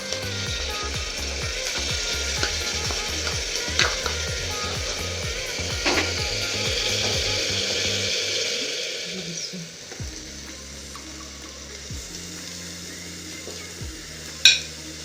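Lentils (dal) tossed into a hot pan for an Assamese khar dish fry with a steady, fairly loud sizzle, broken by a few sharp scrapes and clatters of stirring, and the frying settles lower toward the end.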